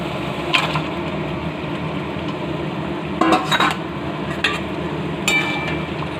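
Chicken pieces being stirred and slowly browned in a pan, with a spoon scraping and clinking against the metal in a few short bursts over a steady low background hum.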